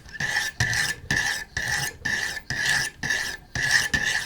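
Repeated strokes of 100 grit abrasive sanding the steel spine of a Spyderco Tenacious folding knife, about eight rasping passes in a steady rhythm, close and fairly loud with brief gaps between strokes.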